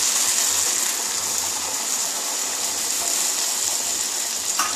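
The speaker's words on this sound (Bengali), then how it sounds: "এবারে আমি জল দিয়ে দেব" Water pours steadily into a pan of soya chunks for a chilli soya dish, a continuous close rushing hiss with no talk over it.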